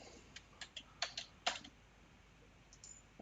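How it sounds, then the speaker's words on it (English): A short burst of faint, close keystrokes on a computer keyboard, clicking in a quick irregular rhythm and then trailing off into quiet. "I'm going to type a very basic formula"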